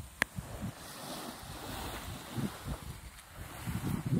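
Sea waves at a beach resort wash and rumble, mixed with gusty wind buffeting the microphone. A sharp knock sounds near the start. No one speaks.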